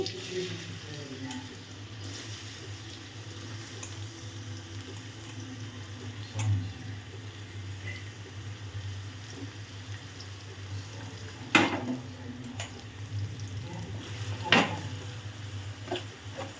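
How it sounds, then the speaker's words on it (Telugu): Onions fry in a pan for a Godavari-style green chilli curry, a quiet continuous sizzle under slow stirring, broken by three sharp utensil clanks against the pan. "ఉల్లిపాయలు వేసుకుంటున్నానండి"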